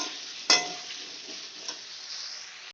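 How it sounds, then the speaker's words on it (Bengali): Salted, turmeric-coated potato pieces frying in hot oil, a soft continuous sizzle opened by a sharp clank of a utensil against the pan, then a light knock under the steady hiss. "এবার আমি আলুটাকেও লাল করে ভেজে নেব।"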